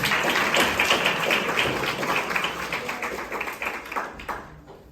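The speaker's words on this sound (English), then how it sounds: "Give a round of applause, everybody." A seminar audience claps for a volunteer called up from the back, a lively burst of many hands that gradually thins into scattered individual claps before fading out.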